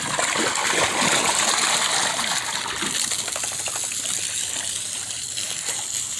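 Water pours and splashes into a dogs' outdoor pool, a loud gushing that eases into a softer trickle.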